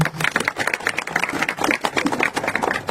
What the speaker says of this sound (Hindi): एक बार आप सभी लोग राजेश कुमार मौर्य जी के लिए जोरदार तालियों से